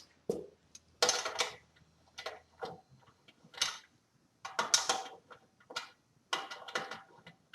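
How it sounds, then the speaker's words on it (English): A ratchet wrench worked back and forth to remove the bolts on a lawn mower's cooling-system cover, making close, sharp bursts of rapid clicking in several short groups separated by brief pauses. "Sometimes my ratchet doesn't want to spin, so it's easier just to use it like that."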